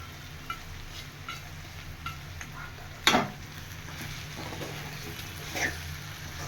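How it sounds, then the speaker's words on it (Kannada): Soaked puffed rice being stirred into a hot tempering in a pan, a soft low sizzle with scattered scrapes and one sharp clatter of the spoon against the pan. "ಇವಾಗ ಕಡಲೆಪುರಿನ ಮಿಕ್ಸ್ ಮಾಡ್ಕೊತಾ ಇದ್ದೀನಿ."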